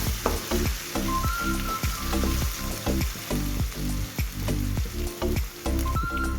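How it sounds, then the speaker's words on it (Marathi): Chillies and garlic fry in hot oil with a continuous loud sizzle, broken by repeated rhythmic stirring knocks and scrapes in the pan, no one speaking. "मिरची पण बरी फ्राय केलेली आहे"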